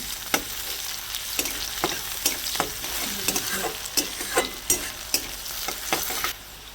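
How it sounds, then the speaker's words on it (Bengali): Sliced onions frying in a pan for a village-style egg curry, a steady sizzle broken by a regular series of sharp spatula scrapes and stirring strokes, close and clear. "পেঁয়াজটাকেও লাল করে ভেজে নেবো"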